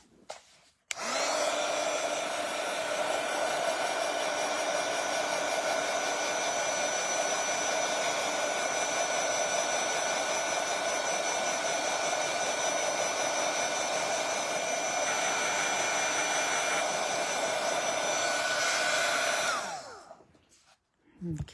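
Hair dryer blowing on artwork, a steady loud whir that starts abruptly, holds for nearly twenty seconds, then cuts off.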